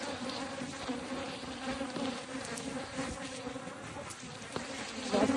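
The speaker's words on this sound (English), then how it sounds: "Okay, so here are the bees. This hive's really strong." Dense, steady buzzing of many honey bees close by at a strong hive, a continuous droning hum with faint rustling throughout.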